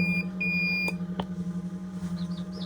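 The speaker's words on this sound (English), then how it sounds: "This one does have an alarm, so it's going to sound in a second. Pardon the beep if you hear it." A chicken egg incubator's alarm: a steady electronic tone is joined by a short high beep and a couple of clicks over a constant low hum, with faint chirps near the end.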